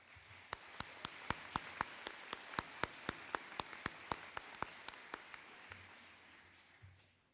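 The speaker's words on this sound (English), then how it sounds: "Let's give them a round of applause." Audience at a college graduation ceremony claps in a brisk, even rhythm, sharp distinct claps ringing out one after another for several seconds before tapering off.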